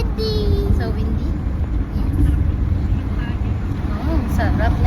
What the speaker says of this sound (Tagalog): so windy. So windy.